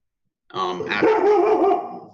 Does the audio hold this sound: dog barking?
yes